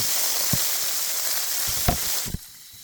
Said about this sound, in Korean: 냄비를 뜨겁게 달군 후에 기름을 넣고 콩나물을 팍 넣어주세요